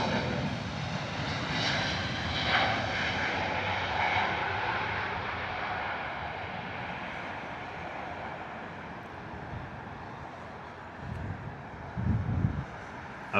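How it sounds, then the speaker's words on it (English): A Lufthansa City Airbus A320neo jet departs from Heathrow with a high-pitched engine whine over a broad roar that slowly fades as it moves away, ending with a few low rumbles, with no talking. "Amazing, beautiful departure there from the 320 Neo. As mentioned so many times with the Neo engines, they're so whiny."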